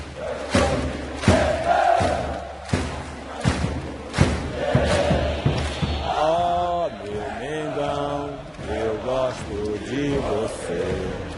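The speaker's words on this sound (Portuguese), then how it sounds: "A torcida então cantou como nunca." Flamengo supporters packing their home stadium, chanting together with rhythmic thumping drums and claps early, then sustained sung crowd voices swelling and carrying on loudly.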